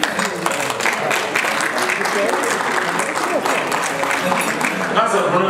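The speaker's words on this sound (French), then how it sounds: "Vous n'applaudissez pas beaucoup." Audience clapping at an awards ceremony honoring African development artisans, a continuous crackling spread of hands with a voice speaking over it.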